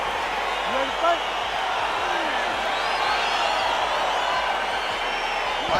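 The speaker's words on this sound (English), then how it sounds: "crowd getting excited as this fight gets underway" A UFC light heavyweight arena crowd roars steadily as a fight gets underway, a dense, loud wash of cheering and whoops that holds throughout, with a commentator speaking over it.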